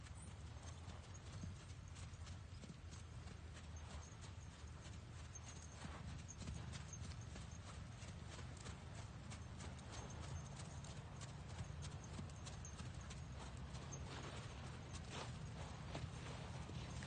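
A horse's hooves clip-clop steadily on arena ground as it jogs, a continuous rhythmic patter at moderate distance with low background rumble.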